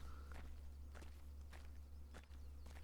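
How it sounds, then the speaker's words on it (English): Footsteps in the video game Limbo Revolution land in a slow, regular series of soft, faint steps over a constant low hum, with no talking. "And you can hear the footsteps."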